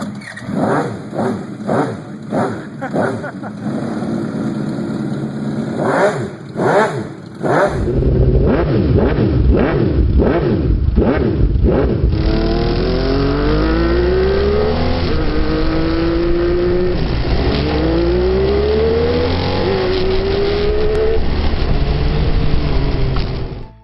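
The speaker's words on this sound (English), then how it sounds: "And, of course, the sound of the motorcycle. It's simply unique." A homemade 2396cc H-16 motorcycle engine of over 400 hp idles with rhythmic pulses, then roars into loud sustained revving, the pitch climbing and dropping repeatedly through gear-like sweeps.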